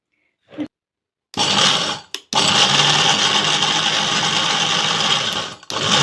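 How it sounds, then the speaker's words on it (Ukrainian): A loud blender whirs into action after a couple of short clicks, running in brief bursts and then grinding sunflower seeds and peanuts steadily before cutting off. "разом з насінням перевивати у блендері"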